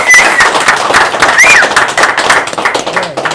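Audience applause for a guest on a live show, loud close clapping that rises and fades over a few seconds, mixed with background voices and music.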